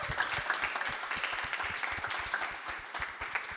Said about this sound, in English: Can we get another round of applause for our panel discussion?